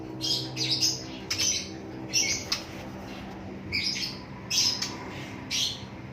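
A live songbird undergoing surgery for a fat-related condition gives a run of short, sharp chirps and squawks, repeated in several bursts over a steady low hum in a quiet room.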